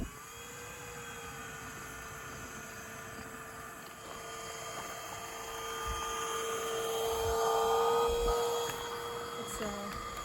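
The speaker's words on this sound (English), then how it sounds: "Give it a pretty good amount of suction." A suction vacuum draws baldfaced hornets from a large nest in Indiana, giving a steady droning hum with a whining tone that swells slightly midway, alone without talk.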